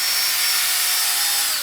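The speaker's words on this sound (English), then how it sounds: "so I'm going to drill in," A drill with a 3.5 mm bit bores into an old throttle actuator gear from a BMW, giving a steady, close, high-pitched whine that runs continuously for under two seconds before cutting off.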